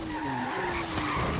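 An MG Metro 6R4 rally car in Forza Horizon 3 screams near its redline, a sustained high, rising engine tone with tire squeal over it, loud and continuous for a brief moment.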